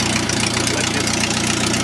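A Les Smoot aircraft engine idling while it warms up, a loud, steady mechanical rumble with a rapid, even knocking pulse that stays constant throughout.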